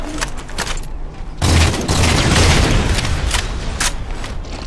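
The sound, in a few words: rocket fire and explosions in the video game Halo 4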